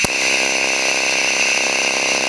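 A pulse TIG welding arc burns after its settings are changed, starting abruptly and holding a loud, steady, harmonic buzz with a fine pulsing texture, alone and close up.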